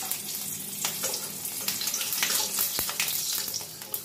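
Cumin seeds and green chilies tempering in leftover fish-frying oil, a steady close sizzle and crackle with a few sharp pops and scraping stirs, no voices.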